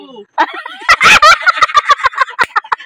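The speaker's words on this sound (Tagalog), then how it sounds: "May manok dito." Short, repeated clucking calls like a chicken, close by, in quick irregular bursts.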